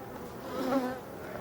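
A honeybee buzzes near a hive during a late-August varroa treatment with Apivar strips, a steady droning hum that swells and fades briefly, close by and on its own.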